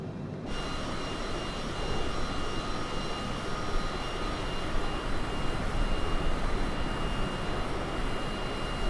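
A Cessna Citation CJ4 jet in the MSFS 2020 flight simulator, engines near idle throttle, drones as a steady, loud, broadband roar with a faint high whine, unbroken for the whole stretch.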